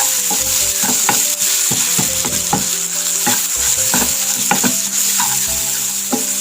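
Turmeric, garam masala and meat masala powders sautéing in a hot pan make a loud, constant sizzle, punctuated by repeated sharp spatula taps and scrapes against the pan, with no voices.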